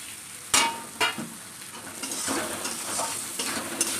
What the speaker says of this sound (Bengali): তো এর মধ্যে আমি দিয়ে দেবো ভেজে রাখা আলুগুলো দিয়ে দেবো।